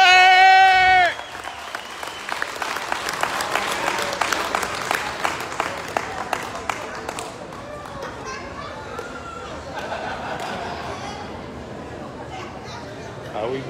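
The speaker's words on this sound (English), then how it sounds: "Applause, everybody!" Audience applause at a live event announcing a fire show act, dense clapping with some crowd chatter that gradually thins out, following a brief loud tone at the start.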